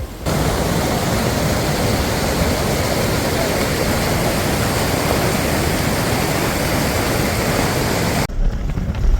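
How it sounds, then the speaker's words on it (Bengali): Cold waterfall water pours and splashes in a steady, loud broadband rush for about eight seconds before cutting off abruptly near the end, with no voices over it. "আর ঝর্নার জল পাবো অথচ একটু জলকেলি করবো না, তা কি কখনো হয়?"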